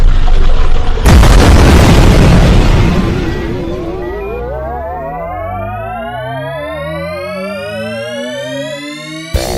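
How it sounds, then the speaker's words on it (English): Sci-fi radio drama spaceship weapons fire: a loud booming blast at the start, then warbling, sweeping electronic zaps and rising synthetic tones with pulsing low throbs trailing off over several seconds, no talk. "They're firing."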